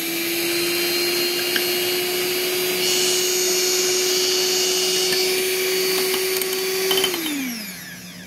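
A handheld electric frother whirs steadily as it beats half a cup of milk until frothy for dalgona coffee, then slows and stops near the end, with no talking.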